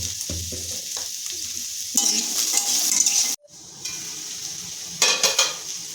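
Ivy gourd (kundri) frying in a pan sizzles in bursts, broken by stirring and a brief near-silent gap, with scraping clatter against the pan.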